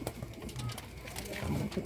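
Pet pigeons in a home loft give soft low coos under someone talking nearby, brief and fairly quiet.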